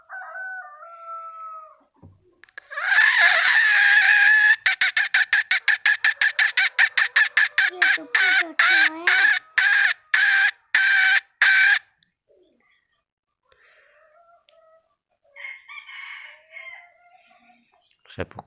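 A white-eared chicken calls in a long rapid burst of repeated clucking and crowing, loud and close, with people talking before and after.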